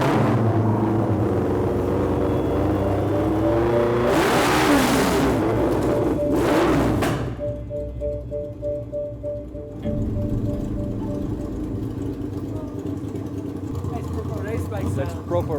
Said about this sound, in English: That's proper race bike sound.